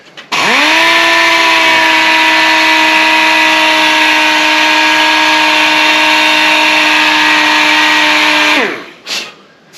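A 400-grit sander works over primer on a 2002 Ford F350 truck fender, giving a loud, steady, high whine that holds for about eight seconds before spinning down and stopping.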